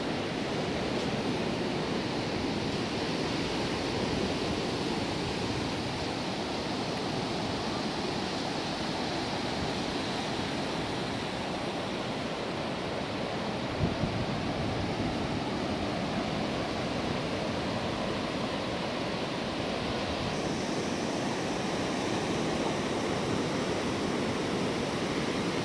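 Sea waves wash steadily at Thuy Van beach in Vung Tau during the east-wind season, a continuous loud roar of surf mixed with wind.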